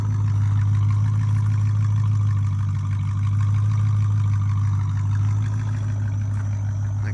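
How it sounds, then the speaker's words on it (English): A 2007 Dodge Charger Daytona engine idles with a deep, steady exhaust rumble, loud and constant throughout without any voices. "Sounds really good exhaust wise."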